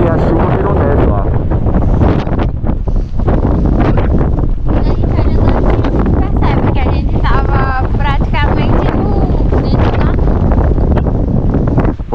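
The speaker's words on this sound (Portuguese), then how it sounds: "o vento bem forte" Strong, cold wind on a mountain trail climbing to Glaciar Martial buffets the microphone with a loud, constant, rushing roar, while a person talks underneath it throughout.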